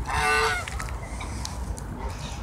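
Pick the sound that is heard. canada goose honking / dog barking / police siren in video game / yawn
canada goose honking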